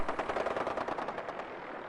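Rapid bursts of missile fire and explosions in the video game Fallout 4, a dense, loud, continuous barrage of pulsing blasts with no talking.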